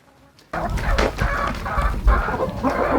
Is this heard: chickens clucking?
yes